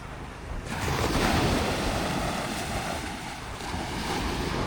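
Steady wash of gentle, calm surf along a La Union shore, a soft continuous rush of water with light wind, no voices.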